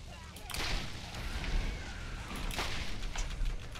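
Grenade explosions and weapon fire in Borderlands, several sharp booms and cracks spread across a few seconds over a busy combat backdrop, fairly faint overall, with some voice present.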